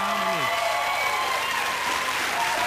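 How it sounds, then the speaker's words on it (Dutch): An audience at a Dutch cooking-show anniversary event applauds with steady, sustained clapping that fills the whole stretch, loud and even, with a short falling tone at the start. "En ik vind dat een applaus waard."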